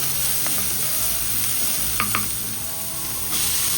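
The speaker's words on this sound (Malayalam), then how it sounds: "അപ്പോൾ നന്നായിട്ടൊന്ന് വഴറ്റിയെടുക്കുക." Bitter gourd and onion sauté in a pan with a constant loud sizzle and hiss, broken by a couple of quick metallic taps from the stirring spoon. It is close and steady, with no voices.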